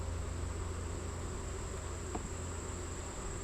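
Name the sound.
honey bees fanning in a hive during inspection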